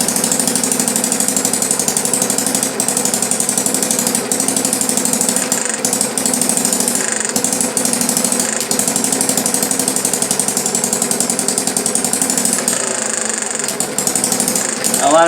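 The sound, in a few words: Banggood hit and miss mini engine running under hand load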